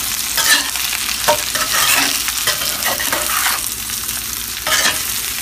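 Potatoes and onions frying in a cast iron sauteuse pan are stirred with repeated scraping strokes over a constant close, crackling sizzle, with no voices.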